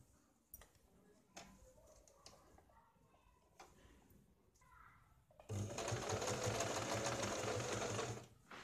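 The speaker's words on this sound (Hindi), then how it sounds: "तो यहाँ पे इस तरह से लेके इसके ऊपर यहाँ पे हमें सिलाई लगानी है" Sewing machine stitching piping onto a blouse, quiet handling and ticking at first, then a loud steady whir of rapid stitching for a few seconds before it stops. A voice speaks lightly early on.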